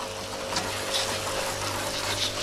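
A gentle water spray hisses steadily and continuously across a dirty car engine bay, with a faint pump-like hum underneath and no speech.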